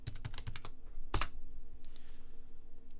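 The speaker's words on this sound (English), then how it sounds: "If I go in here and make another change, I'll just type foo." Keystrokes typed on a computer keyboard while editing a file in an SSH session, a quick burst of close, crisp clicks followed by a single louder tap and a few faint later strokes.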